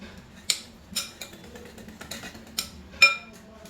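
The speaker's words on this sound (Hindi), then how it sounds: "आप बड़े वाले चम्मच से 1 चम्मच इसमें ऑयल डाल दीजिए और इसको अच्छे से विस्क कर लीजिए" Whisk scraping through cake batter with a spoonful of oil in a bowl: a series of bright, short clinks and scrapes, close and fairly quiet, coming in uneven strokes about every half second.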